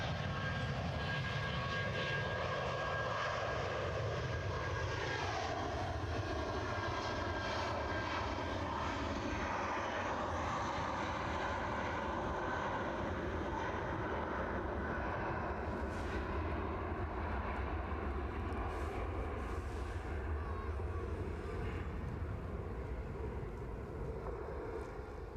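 A jet airliner powers up and takes off at Edinburgh Airport, a continuous loud engine roar with rising and falling whine tones sweeping across it, heard at a distance without talk.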